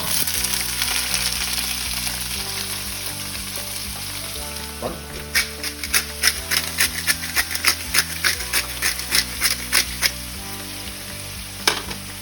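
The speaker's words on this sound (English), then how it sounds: "We're gonna do a pan, medium heat, olive oil, and I'm gonna put the leek." Leek frying over medium heat in olive oil in a pan gives a continuous loud sizzle, with a run of rhythmic crackling pops and stirring clacks through the middle.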